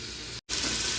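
Water runs from a kitchen tap in a steady, loud rushing hiss while cups are measured, briefly cutting off for a split second before flowing strongly again.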